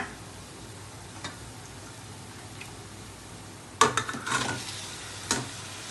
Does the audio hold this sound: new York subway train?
no